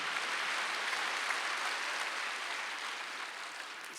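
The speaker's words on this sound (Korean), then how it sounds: "박수 한번." A congregation at a Korean church's Wednesday worship service breaks into loud, sustained applause. The dense clapping fills the whole stretch and fades only slightly toward the end, with no voices over it.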